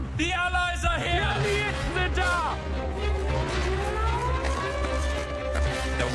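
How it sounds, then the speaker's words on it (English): Air raid sirens howl and wail in rising and falling tones along a coast as Allied ships appear, layered with dramatic noise, a low rumble and overlapping voices throughout. "There was a howling of sirens."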